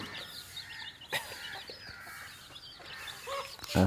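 Country chickens cluck in the morning while being fed rice, soft intermittent clucks and calls near and far over a quiet yard, with a few sharper bursts toward the end.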